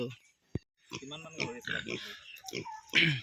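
Pigs on a small pig farm grunt in short bursts close by, mixed in with nearby talk and a sharp knock near the start.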